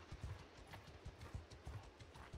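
Horses' hooves clip-clopping in Mount and Blade 2 Bannerlord, a rapid, irregular galloping patter of several riders, faint and steady with no talk.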